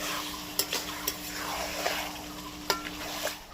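Mutton cooks in a pot over a wood fire while a spoon stirs it, giving a soft sizzle under several sharp metallic scrapes and clinks at irregular intervals, fairly quiet and close.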